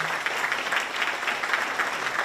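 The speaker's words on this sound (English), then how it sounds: "So please, a round of applause to the four." Steady, dense applause from a crowd, a continuous wash of clapping hands with no voices rising above it.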